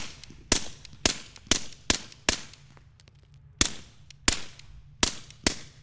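Suppressed 9mm pistol shots through a Griffin Armament Rev 9 suppressor, about ten sharp cracks fired in quick uneven groups outdoors, each with a short decaying tail.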